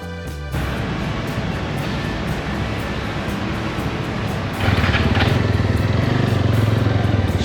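A new Jawa 42 FJ motorcycle is ridden with its engine droning steadily and loud under a rush of wind, swelling louder and rougher partway through as the throttle opens.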